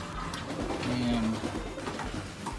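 Racing pigeons coo softly in the young-bird section of a loft with a trap and aviary. One steady, low coo stands out above a murmur of birds and faint room noise.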